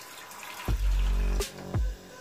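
Water from a tap gushes in short bursts into a pan on a kitchen cooker, three splashing pours each lasting a fraction of a second to half a second, close and fairly loud, with no voices.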